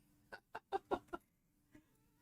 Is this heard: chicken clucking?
yes